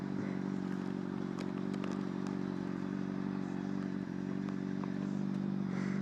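Motorcycle ridden along, a steady loud engine drone with low rumbling tone and some rattling clatter throughout, close by and without talk.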